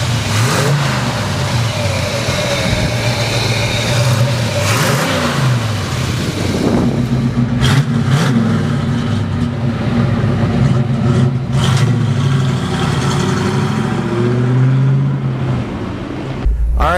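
A 1967 Chevy Chevelle SS convertible with a big-block engine runs with a low, steady rumble from start to finish. The pitch rises and falls several times as the car revs and shifts while it is driven.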